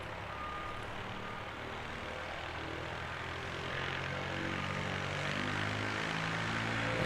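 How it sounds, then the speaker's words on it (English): An ATR turboprop airliner departs Christchurch Airport with a low, steady propeller drone and rumble at a moderate distance. The sound swells slightly louder as it goes on, with no speech over it. "NZ5705 heading off to Invercargill on its way out as well, that's a ATR"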